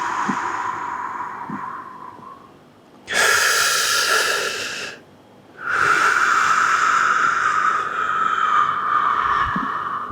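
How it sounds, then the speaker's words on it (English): A person receiving a pelvic massage breathes out deeply in two long, strong airy rushes separated by a short pause, close and clear, with softer breathing before them. "And exhale."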